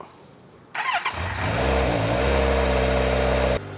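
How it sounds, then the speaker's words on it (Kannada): A motor vehicle engine cranks and catches after a short quiet lead-in, then settles into a loud, steady running hum with a strong low rumble, close by with no talk. "ಗಾಡಿ ಸೌಂಡ್ ಮಾತ್ರ ಬೆಳಗ್ಗೆ ಕೇಳೋಕ್ಕೆ ಮಸ್ತ್ ಮಜಾ"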